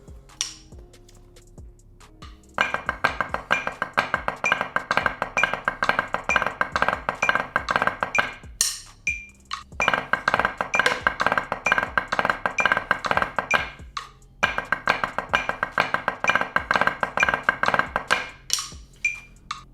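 Fast, crisp stick hits on drums repeat in a tight pattern, grouped into three long bursts with short pauses between, loud and close with no talking.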